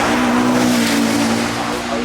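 Rimac Nevera electric supercar with four electric motors accelerating up the Goodwood hillclimb: a loud, close, rising electric whine with strong tire and road roar, continuous for about two seconds.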